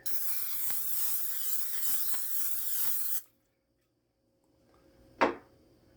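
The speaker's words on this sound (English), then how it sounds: "preheat this pan to medium-high heat and then spray it with cooking spray" A steady broadband hiss of cooking spray into a preheated pan for about three seconds, then quiet, followed by a brief sharp burst.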